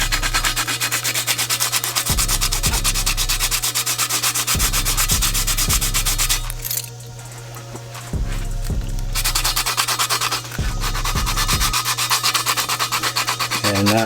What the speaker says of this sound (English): And we're just going to start sanding these.